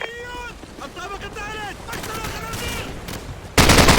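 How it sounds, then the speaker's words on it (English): Rapid machine-gun fire in Call of Duty 4: Modern Warfare comes as repeated bursts amid battlefield noise and shouted in-game voices, ending in a loud, close, sustained volley. "use their machine gun"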